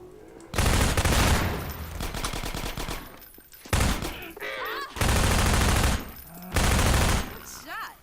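Bursts of automatic gunfire from the video game Half-Life 2 ring out loud and close, separated by short lulls, with game sounds between the volleys.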